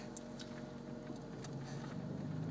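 A small car's engine runs at a steady, close, low hum as a learner driver pulls away on a first drive, working the clutch and accelerator. No one speaks.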